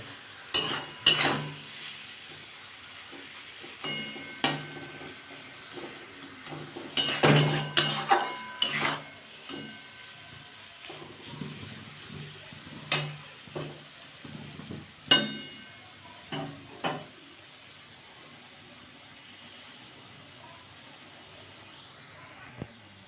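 Spice masala with capsicum and onion is fried and stirred for a Bhola fish curry with capsicum, heard as a soft sizzle under repeated metal spoon clinks and scrapes against the pan, louder in the middle, with no talk.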